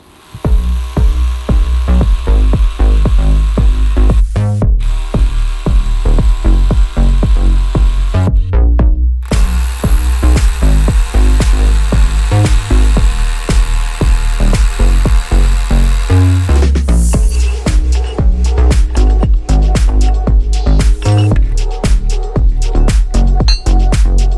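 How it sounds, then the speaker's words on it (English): A power drill grinds continuously at close range into a stone fire pit cap, with short pauses and bursts, plus faint clinking and tapping as it bores in. "we just drill out that hole, pump some glue in it"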